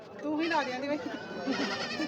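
A Beetal goat bleats in wavering, shaky cries over the whole stretch at a goat market in Tungwali, with people talking nearby at the same time.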